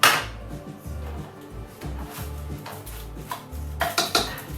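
Venison meat dropped and stirred into a crock pot, with close, moderately loud clatter of a spoon and pot and soft thuds as pieces go in, followed by a few sharper clanks.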